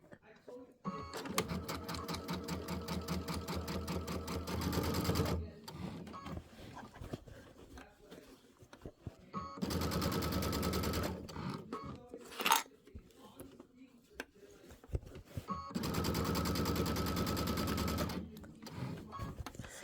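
A sewing machine stitches a scalloped quilt border in three sustained, steady bursts of fast rhythmic whirring, separated by pauses with small handling clicks and a sharp snip near the middle.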